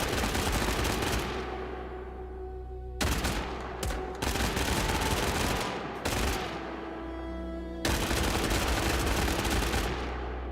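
Heavy mortar fire in the video game Rogue Trader, loud booming blasts that roll on for several seconds, broken by a few brief gaps before the barrage resumes.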